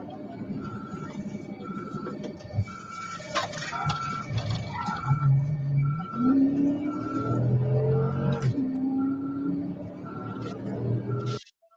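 A white BMW's engine whines and drones during a police chase, heard inside the car as rising and falling tones over a steady road roar, with brief beeps and clicks.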